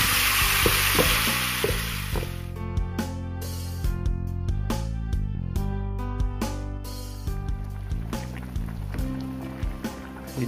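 Chicken wings bubble and sizzle steadily in a pan, braised in liquid before frying, with a continuous simmering hiss and occasional metallic clinks of stirring.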